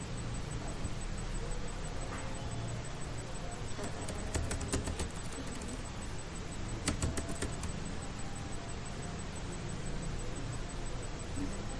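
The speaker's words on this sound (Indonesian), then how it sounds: "Misal contohnya saya akan mengetik" Soft clicks of keyboard typing, a few short bursts over steady background hiss, fairly quiet and close.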